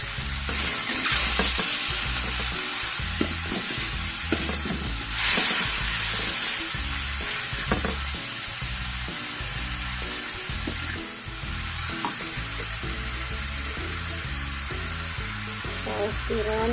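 Mushrooms fry in a pan with brown sugar and salt, giving a steady loud sizzle throughout while a utensil stirs and scrapes through them in intermittent bursts.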